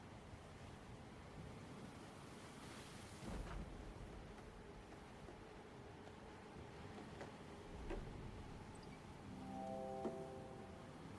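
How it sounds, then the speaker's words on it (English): Ocean waves wash and rush continuously at low volume in a video game, a soft surging roar with a few gentle swells and faint knocks, no voices. "God, I love ocean noises."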